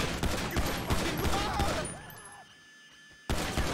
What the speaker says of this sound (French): Je tire un peu au jugé comme.